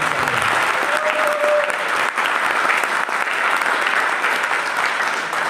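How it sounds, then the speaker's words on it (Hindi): Vigorous audience applause at a company training meeting, loud continuous clapping from a large crowd sustained evenly throughout. "तो आप मेरे दोस्त सबसे पहले एक जोरदार तालियां बजाओ"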